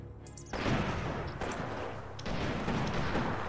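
Battlefield gunfire in the WWII strategy game Sudden Strike Forever, with a dense continuous roar of rifle and artillery fire that surges in several loud waves and has no talk over it.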